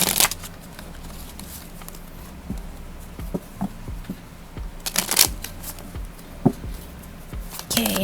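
Tarot cards are shuffled in quick riffling bursts with soft papery slaps and flutters, spaced irregularly across a quiet room during a card reading.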